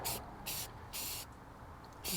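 Short bursts of primer spray mist onto an eleven mudflap, four separate hissing sprays with pauses between, close and moderately loud over a low background rumble.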